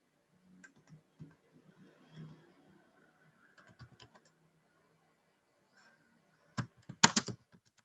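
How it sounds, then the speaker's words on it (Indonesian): Typing on a computer keyboard: sparse, soft key clicks in short runs, then a louder, denser burst of keystrokes near the end, heard alone in a quiet room. "Jadi silakan kita ketik ekonomi"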